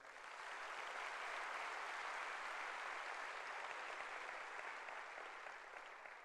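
Large audience at a business event packed up to the third floor applauding, a dense, even wash of clapping that holds steady for the whole stretch at a moderate distance.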